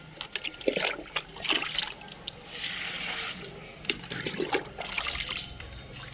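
Water poured into dry plant pots comes in several short, quiet trickling and splashing bursts with brief pauses between pours.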